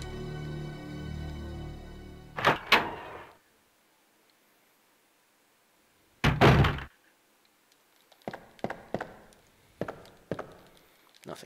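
A room door in the Resident Evil 2 game swings open with a solid thunk and rattle, followed after a short silence by another heavy clunk and a series of light footstep-like taps.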